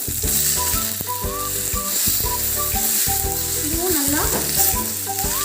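Chopped tomatoes sauté in a hot pan for spicy kara chutney, a loud continuous sizzle with stirring scrapes and knocks over steady background music, no voices.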